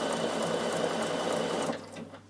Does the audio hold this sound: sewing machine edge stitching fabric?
yes